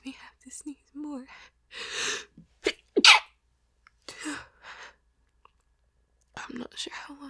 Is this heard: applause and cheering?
no